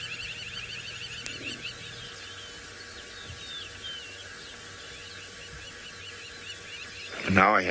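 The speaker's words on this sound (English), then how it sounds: "Now I hear lions in the distance." Lions roar faintly far off in the African bush near the Talek River during a dawn safari drive, low and distant under a steady hiss of insects and birds.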